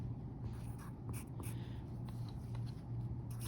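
Pencil or pen scratching across paper while a subtraction answer is written out during a homework lesson, a steady faint rustle and scrape with no talking.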